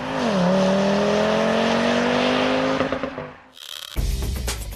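Audi TT RS with a 2.5 litre turbo engine revving hard, a loud, close rising engine note that holds, drops away, then bursts back with a rough roar.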